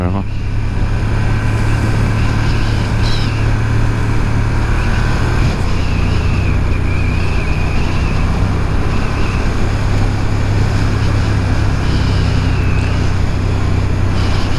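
A motorcycle rides at about 50 km/h along a rural departmental road in the Hauts-de-France countryside, giving a steady, loud low engine drone mixed with wind rush throughout.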